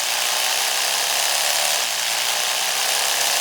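An Oral-B Genius 9000 electric toothbrush runs in daily cleaning mode, a loud, steady high-pitched whirring buzz that continues without pause.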